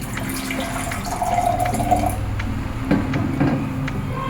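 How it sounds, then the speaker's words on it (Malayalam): Cold water splashes and trickles steadily into a glass of Herbalife drink mix nearby, a softly rising gurgle at first, then faint drips and clinks toward the end. "ഇതിൽ ആദ്യം കുറച്ച് പച്ചവെള്ളം ഒഴിച്ചിട്ട് മിക്സ് ചെയ്യാം"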